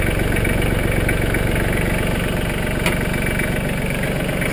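A steady, rumbling Mahindra Max 25 tractor engine idles continuously at a constant pitch, close by, with no one speaking.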